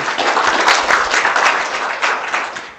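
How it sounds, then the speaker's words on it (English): Loud, sustained applause as a speaker is welcomed at a talk, many hands clapping in a dense steady roar that tapers slightly toward the end, with no speech over it. "All the applause."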